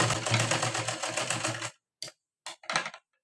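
A sewing machine runs a straight stitch on a blouse, a dense rattling whir for almost two seconds, then three short separate bursts after gaps of silence.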